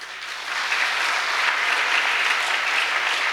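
Audience applause at a community programme in Ladgaon, Chhatrapati Sambhajinagar, a dense, even wash of clapping that swells in after a brief moment and holds steady throughout.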